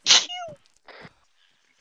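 A quick, high-pitched sneeze rings out up close, sharp and bright, followed by a short squeak and a softer breathy puff, then quiet.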